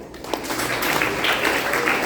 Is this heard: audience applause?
yes